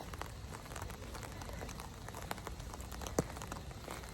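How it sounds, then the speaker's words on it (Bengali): Steady rain falls outdoors on a wet street, a dense, even patter running through the whole stretch with one sharp drip or knock near the end. "দেখো কি বৃষ্টি হইতেছে বুড়ি বৃষ্টি হইতেছে"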